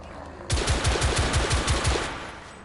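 An automatic weapon fires in The Order: 1886, a shooter video game. A rapid burst of about eight or nine loud, punchy shots lasts roughly a second and a half, then a short reverberant tail follows.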